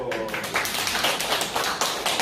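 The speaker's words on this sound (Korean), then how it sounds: "박수!" A small group claps at a free education centre, giving a brief burst of lively, uneven hand claps close by.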